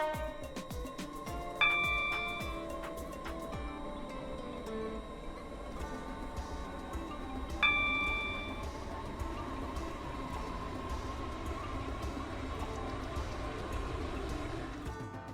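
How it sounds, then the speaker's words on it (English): Interior ambience of an IET train in the SCR (Stepford County Railway) video game, with a steady rumbling running hum, two chime tones about six seconds apart, and clicking mechanical sounds, heard alone with no talk. "The changelog gives mention to new IET sounds"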